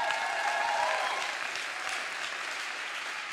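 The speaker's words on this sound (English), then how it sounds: "Clap your hands." A live audience at a motivational talk claps loudly and continuously, with the dense applause easing slightly toward the end.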